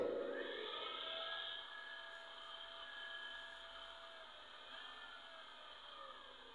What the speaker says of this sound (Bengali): এই যে দেখতে পাচ্ছেন মোটর চলছে, মোটর কিন্তু চলতেছে।